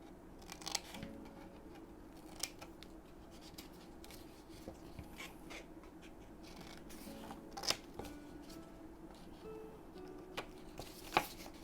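Scissors snip the corners and centers of 8x8 scrapbook paper to miter them, faint scattered cuts over quiet rustling paper handling, with a few sharper close snips.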